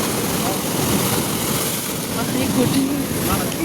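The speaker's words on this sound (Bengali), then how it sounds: "পূর্ণিমার জোটা আছে বুঝলি তো তাই জন্য এত ঢেউ" Steady rushing surf of rough full-moon ocean waves at Mandarmani beach with wind buffeting the microphone, a continuous wash with no clear breaks between swells.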